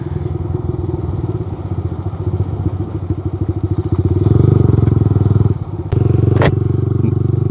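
Yamaha R15 motorcycle ridden over a potholed, broken hill road near Nelliampathi, the engine's steady throb close and loud with thumps and rattles from the rough surface, ending in a couple of sharp jolts.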